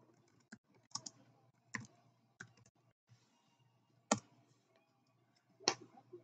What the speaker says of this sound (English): I'll type his name in the chat.